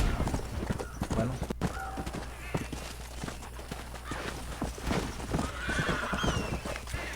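In the Red Dead Redemption video game, a horse whinnies over a steady clip-clop of hooves that goes on throughout, loud and close, with a faint voice in the background.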